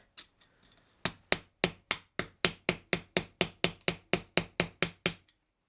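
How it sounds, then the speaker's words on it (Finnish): Steady metallic hammer taps on a chisel against a screw on a Honda Monkey motorcycle engine, about sixteen evenly spaced blows close up, preceded by a few faint knocks, with no talking. "Pistetään se tuota vasten ja koputellaan poispäin suuntaan vasaralla."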